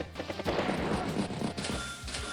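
Attack on a tank in Advance Wars by Web, with a dense, continuous crackle of rapid gunfire-like battle effects lasting a couple of seconds, loud and close.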